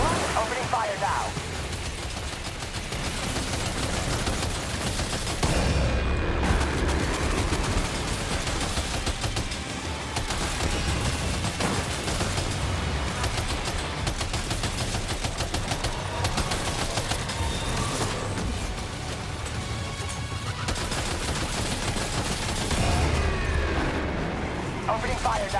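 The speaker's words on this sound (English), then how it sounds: "Opening fire now." Heavy gunfire and explosive bursts from combat in the video game Death Stranding 2, a dense continuous barrage with booming low impacts and brief lulls, loud throughout.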